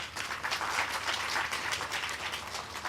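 An audience at a Mahakaali spiritual festival gathering claps steadily together, a dense sustained patter of many hands at moderate volume with no voices over it.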